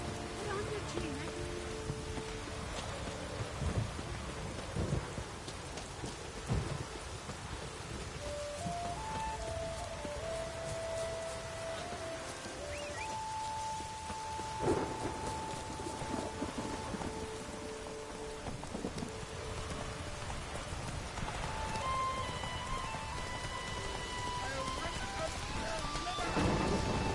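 Rain pouring and thunder rumbling in The Witcher 3: Wild Hunt, a steady downpour hissing on surfaces with occasional low thunder rolls, while a player talks over it at times.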